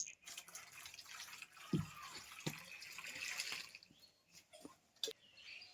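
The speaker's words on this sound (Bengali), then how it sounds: "আমগুলো আমি ভালো করে একবার পরিষ্কার করে ধুয়ে নিয়ে আসছি আমি আর একবার ধুয়ে নেবো" Raw green mangoes being rinsed under water for a sweet pickle, with faint running water, drips and occasional splashes and knocks in a sink, quiet and intermittent.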